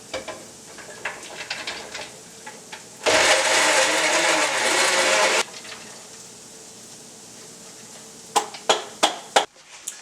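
Food processor pulsing mushrooms for a meatless meatloaf: one loud, steady motor whir of about two seconds, then a quiet stretch and a quick run of short, sharp pulses at the end.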